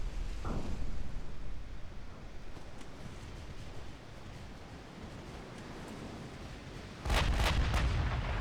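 Warship guns boom in the naval video game Ultimate Admiral Dreadnoughts, a low rumbling blast early on and a heavier, louder burst of gunfire near the end over a steady background roar.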